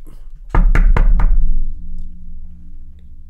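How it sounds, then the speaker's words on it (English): Four loud, evenly spaced knocks land on a door, close and heavy, followed by a low lingering rumble that fades over the next two seconds. "A knock."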